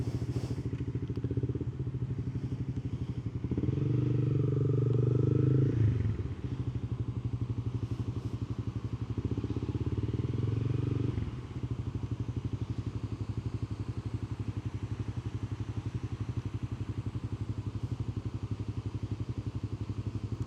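A motorcycle engine idles before a Sunday morning ride near Universal Studios Hollywood, a steady low rumble that swells briefly twice as the throttle is blipped.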